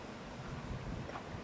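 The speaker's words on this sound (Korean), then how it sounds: "저희 같은 경우에는 지금 타이머를 달아가지고 선풍기가 계속 돌아가요." An electric fan runs indoors on a timer to keep air moving over houseplants, giving a soft, steady whooshing drone throughout, with no talking.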